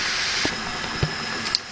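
Fish steams in a covered pan with about a teaspoon of water. A steady, even hiss runs throughout, broken by a few faint ticks and pops.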